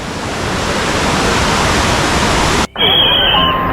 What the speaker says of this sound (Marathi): आत्ता या ठिकाणी भरपूर प्रमाणात पाऊस सुरू झाला आहे